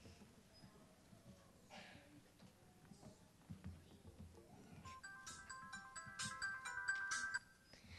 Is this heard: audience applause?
no